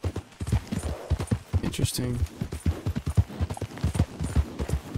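Horse hooves clip-clop steadily at a brisk pace in Red Dead Redemption II, a close, rhythmic run of hollow knocks that continues under someone talking.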